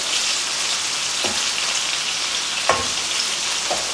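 Cod fish curry is mixed in a hot pan, a constant hissing sizzle up close with three sharp spoon taps against the pan, no voices.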